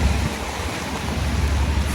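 Heavy rain pours steadily in a city street in Chicago, a dense continuous wash of noise with a low rumble beneath, close and constant throughout.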